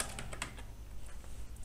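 Quick light key taps on a computer keyboard while filling in an address field on a form, a brief close run of soft clicks with no voice.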